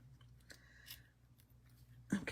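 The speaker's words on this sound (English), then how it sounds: "I'm going to cut this, just trim it up just a bit." Scissors trim a piece of material in a few faint, quick snips, ending in one louder, closer cut.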